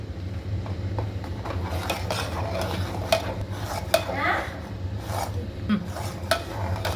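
A spoon scrapes and stirs thickening pizza sauce in a pan, a continuous gritty rubbing with occasional light clinks against the metal, close and moderately quiet, with no talk.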